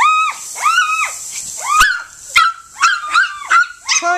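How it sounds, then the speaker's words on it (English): A small wet dog barks and yips close by in a quick series of sharp, high calls, playing with water. "What are you doing, you little wet dog?"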